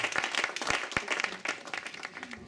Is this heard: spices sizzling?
no